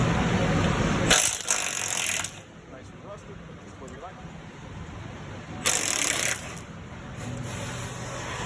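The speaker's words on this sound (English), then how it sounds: "we're gonna go ahead and undo these 1/2-inch head bolts" Ratchet wrench loosening half-inch head bolts on the radiator mount of a Freightliner Cascadia truck, two loud clicking bursts a few seconds apart over steady background noise and shop sounds.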